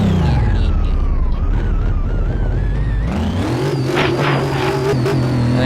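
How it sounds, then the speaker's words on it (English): Supercharged Lamborghini engine in the Car Mechanic Simulator game revving loudly and continuously, its pitch climbing and shifting with a steady whine layered over the roar, no talking. "I love how when you have a supercharger on a car, you can hear it"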